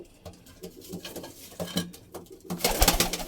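Soft pigeon coos and fluttering close by, with scattered rustling and patter, growing louder and busier toward the end.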